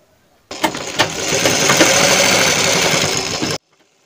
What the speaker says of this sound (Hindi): अब दोस्तों हमें लगा लेना है यहाँ पर एक लब की सिलाई यानी किनार की सिलाई।